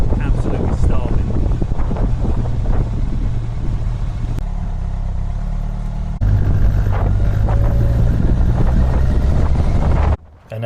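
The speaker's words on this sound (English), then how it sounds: "as you can hear, the wind really hasn't died down even on the last day" Strong wind buffets a rider during a stormy weekend motorbike trip, a loud continuous roar and rumble of wind noise with engine drone beneath, steady throughout before briefly dropping out near the end.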